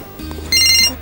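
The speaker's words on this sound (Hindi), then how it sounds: "फोन आया" Telephone ringing indoors in a Pakistani drama scene, one brief bright electronic ring burst cutting in after a low thump, close and clear with no voices.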